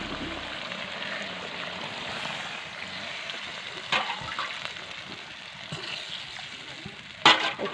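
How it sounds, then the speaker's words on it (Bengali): Water pours into a hot pan of fried meat and potato curry, a soft steady hiss and sizzle with a few faint clinks, fairly quiet and close. "একটু বেশি করে জল দিলাম"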